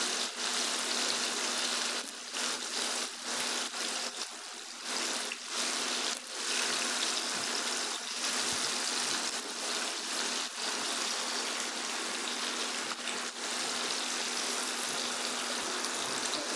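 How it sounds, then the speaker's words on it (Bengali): Chicken frying hard in hot oil, a steady dense sizzle and crackle running loud and continuous throughout, with no talking. "এবারে একটু জোর করে ভেজে নেবো ভালো করে"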